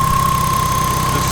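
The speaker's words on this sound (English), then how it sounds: "now that the engine's full of oil, it's settled down. It sounds really good." A BMW E30 with a swapped-in S52 engine idles steadily and loudly up close, a smooth, even rumble with a faint high whine running through it.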